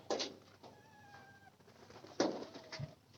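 Pigeons in a home loft with an aging bird, giving low soft coos in two short bursts a couple of seconds apart, fairly close, with quiet rustling between and no talk.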